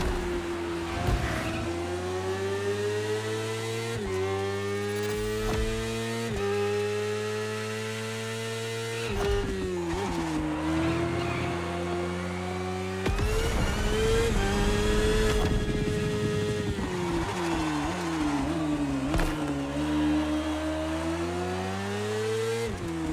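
A BMW S1000RR motorcycle in The Crew Motorfest screams through repeated high revs and gear shifts, the engine note climbing and dropping over and over through a sustained, loud ride with no talking.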